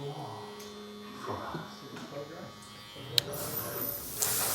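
Supreme Trimmer Pro electric hair clipper with a taper blade runs with a steady close buzz and hum, with someone talking over it and a couple of brief clicks.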